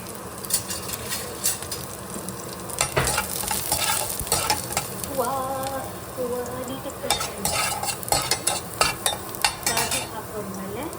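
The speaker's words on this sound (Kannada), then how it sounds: "ಸೊ ಈಗ ಪ್ಯಾನ್ ಬಿಸಿ ಆಗಿದೆ. ಇದಕ್ಕೆ ನಾನು ಚಿಕ್ಕದಾಗಿ ಚಾಪ್ ಮಾಡ್ಕೊಂಡಿರೋ ಗಾರ್ಲಿಕ್ ಹಾಕ್ತಿದ್ದೀನಿ." Finely chopped garlic fries in a hot pan, sizzling loudly while a utensil scrapes and clinks against the metal in busy, irregular bursts, up close.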